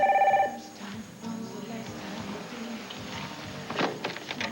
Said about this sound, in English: Wade, maybe you should get the phone.